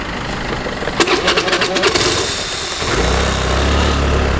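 A car engine cranks with a quick burst of stuttering pulses, then catches and settles into a steady, rumbling idle, heard close and fairly loud.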